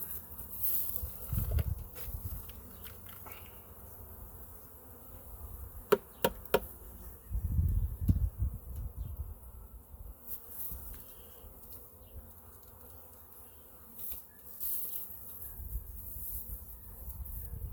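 Live bees buzz faintly inside a wooden hive box, a thin steady drone under low rumbling handling thumps and a few sharp knocks as the box is moved.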